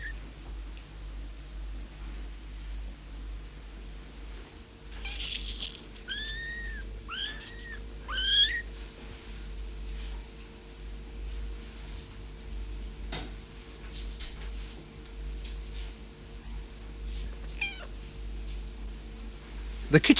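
Young kittens mew in a house, several thin high squeaks in quick succession midway, then a few fainter calls later over a steady low hum and soft ticking.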